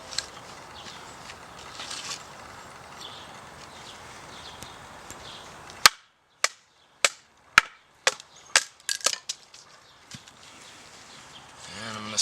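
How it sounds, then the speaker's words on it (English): Firewood is split into small pieces by batoning, and after a stretch of quiet rustling comes a close run of about ten sharp, dry wooden knocks at an uneven pace, with faint talk around them. "So we're chopping it up into little pieces to get it drying out more"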